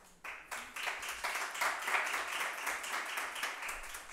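Steady applause fills a coworking-space demo day in Talavera, dense clapping from a seated audience welcoming a speaker, starting abruptly and holding at a lively, even level for several seconds without any talk over it.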